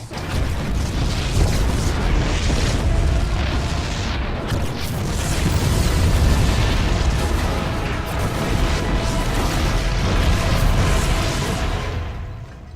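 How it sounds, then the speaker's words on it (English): Heavy explosions in StarCraft 2: Heart of the Swarm boom and rumble continuously, a dense, loud wall of low roaring that swells and ebbs without a break. "The explosions have stopped."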